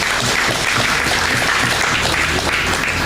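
Thunderous applause from a large audience at a Malay political rally, honoring candidates for the 2026 Negeri Sembilan state election; dense, steady clapping fills the whole stretch at full loudness.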